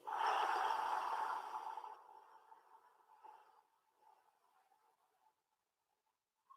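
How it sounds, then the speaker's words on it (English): A long breath pushed out through the mouth during a guided breathing exercise, loud and airy at first and then tapering off into quiet, heard alone and close. "Breathing in the nose, expanding, expanding, expanding. And out the mouth"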